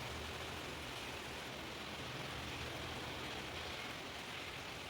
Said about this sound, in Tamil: நைட்டு இங்கே ஹெவியாக மழை பெய்ய ஸ்டார்ட் ஆகிடுச்சு.